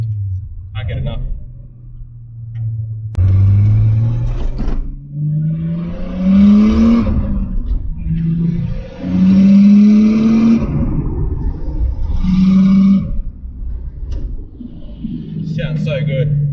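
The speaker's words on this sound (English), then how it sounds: "I've got my passenger window cracked just a little bit so you can hear the turbo." A turbocharged RB25DET engine in an R32 Nissan Skyline revs up repeatedly, its tone climbing in pitch through each gear with a deep rumble underneath, heard from inside the cabin with the passenger window cracked.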